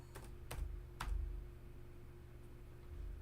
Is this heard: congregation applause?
no